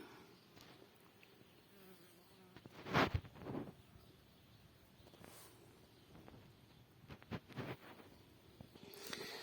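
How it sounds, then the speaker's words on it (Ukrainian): Bees buzz around hive entrances on the outside of a wooden hive house, a steady outdoor drone with a few louder passes close by and no talking. "Це вигляд зовнішньої сторони, де є льотки в вулики."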